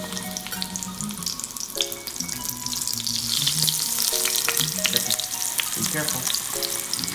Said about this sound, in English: All right, we are ready to fry. So here comes eggplant.